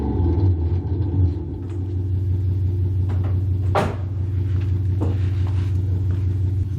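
Simulated Audi RS6 Avant engine idle played through the speakers of a Tesla Model Y Performance, a steady deep rumbling drone with low throbbing pulses and a few brief clicks or knocks on top, no speech.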